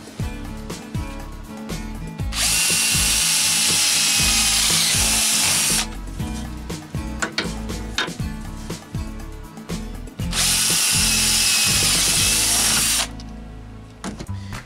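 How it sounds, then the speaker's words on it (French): A power drill bores holes in wood with a bit, two long bursts of loud, dense whirring separated by the clatter and rattle of the drill and wood being handled, close by with no talking. "je vais les percer toujours à l'aide de mon foret"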